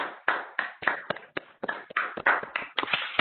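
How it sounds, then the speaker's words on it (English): Meeting participants applaud the Secretariat at a high-level working group meeting, with scattered, uneven hand claps from a small group that come in close, irregular bursts throughout, and no talking. "I would also like to invite everybody for an applause to the Secretariat."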